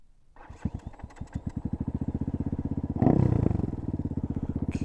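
An Evoque 250cc dirt bike engine cranks over with a rapid rhythmic chugging, catches with a louder burst near the end, then settles into a steady, close, pulsing idle.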